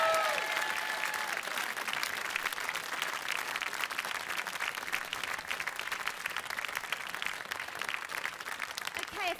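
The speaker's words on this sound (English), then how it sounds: "one final round of applause for Mr." A television game show studio audience applauds continuously for close to ten seconds, the clapping dense and even, with a few voices and a brief whoop rising at the start.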